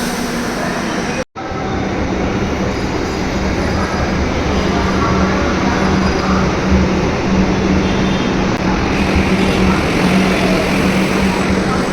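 A Kolkata Metro train at Netaji station rumbles loud and steady, with a constant low drone, rail noise and a faint high whine. A brief dropout comes near the start, and no one speaks.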